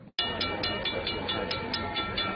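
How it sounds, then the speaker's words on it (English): CPKC holiday train rolling into Herman for a community holiday event, a loud continuous rumble of rail cars with evenly spaced rhythmic clicks as the train passes close by, starting abruptly after a brief silence. "An international train rolled into town to spread holiday cheer and support the community."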